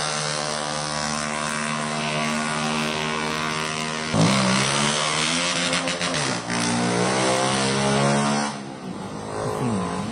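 Loud motorcycle exhausts rev hard on a town street at night in Ban Dan, Buriram, a sustained droning roar that rises and falls through repeated throttle blips, close and dominant, with no talking.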